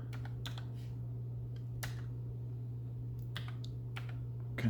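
Someone types a command on a computer keyboard while setting up a Gentoo system on a Beelink 5800H mini PC, giving scattered close key clicks in short bursts over a steady low hum.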